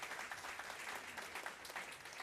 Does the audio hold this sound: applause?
yes